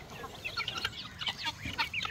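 Several chickens cluck in a dense, overlapping chorus at feeding time in a backyard coop, close and steady with scattered sharper calls and no talking.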